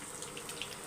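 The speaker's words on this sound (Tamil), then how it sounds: "தண்ணி இருக்கவும் அதில் பட்டு சலன்னு கேட்குது பாருங்கள்" Water hits hot oil in a kadai during home cooking, giving a faint, continuous hiss with scattered small crackles and pops, low in level and with no talk over it.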